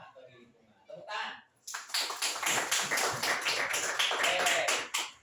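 A class of students bursts into applause, a dense, lively clapping that runs for several seconds close by, following a short spoken cue.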